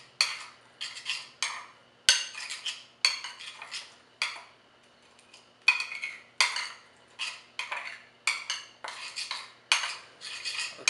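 A utensil repeatedly scrapes and clinks against a bowl while mixing Bok Ma Om, a rice paddy herb dip seasoned with fish sauce, in about twenty quick rhythmic strokes, close and fairly loud with brief pauses and no talk.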